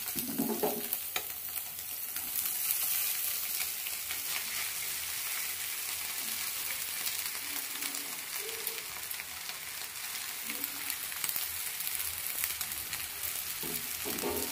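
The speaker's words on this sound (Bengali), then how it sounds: "এবার তৈরি করে রাখা চাউমিনটা এর মধ্যে দিয়ে দেবো।" Chowmein noodles with egg stir-frying in a pan: a constant hissing sizzle throughout, with occasional scraping and stirring knocks from a utensil, fairly close and without speech.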